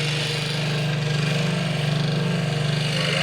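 Scroll saw cutting a thin wooden workpiece for fretwork lettering, a steady loud motorized buzz with a strong low hum and rapid reciprocating chatter running continuously throughout.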